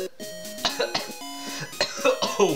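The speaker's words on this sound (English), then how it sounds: "Wow, that cough hurt." A person coughs in a rapid string of harsh, close bursts, five or six in a row with brief gasping breaths between them.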